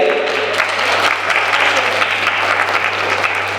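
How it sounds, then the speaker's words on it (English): Audience applause at the Miss Phenix City Pageant 2022, loud sustained clapping from a crowd filling the room without pause. "I just want to give a round of applause to Tommy Lowe and Miss Victoria as well."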